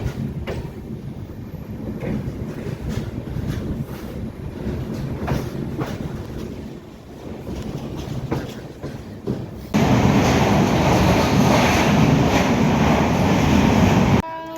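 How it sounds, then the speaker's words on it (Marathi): A passenger train rolling toward Mumbai, rhythmic clickety-clack of wheels over rail joints with a steady rumble that swells into a louder, denser roar partway through. "तर मित्रांनो ट्रेन सुटली"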